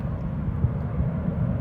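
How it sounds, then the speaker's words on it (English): An airplane taking off drones as a low, steady rumble in the distance, muffled and continuous with no other sound on top for the brief stretch. "Plane just took off there"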